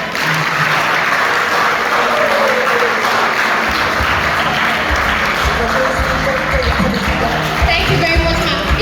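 An audience at a student integrity awareness summit breaks into sustained applause, a dense, loud wash of clapping that swells and continues throughout, with a voice briefly audible over it.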